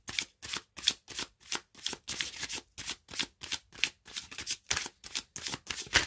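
Tarot cards being shuffled and drawn at a reading table, a steady run of about twenty crisp riffling bursts in quick rhythm, close and fairly quiet, with no talking.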